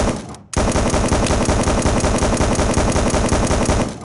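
A .50 caliber machine gun fires in a VR shooting game, a loud, close, continuous rapid stream of heavy shots after a short pause, running without letup to the end.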